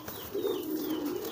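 Pigeons kept in pairs for breeding coo in a single soft, rolling call close by, with a faint background hiss.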